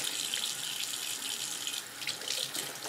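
A faucet runs lukewarm water into a sink for washing brushes, a steady close hiss and splash with no talk.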